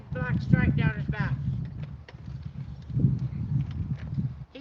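A six-year-old quarter horse's hooves clip-clop in an irregular rhythm at a rescue, with a person talking over the start.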